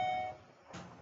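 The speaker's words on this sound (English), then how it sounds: "Sorry, that was my phone." An electronic beep from a phone ringing out in a classroom, a steady tone that holds for a moment, then fades, followed by a brief burst of noise.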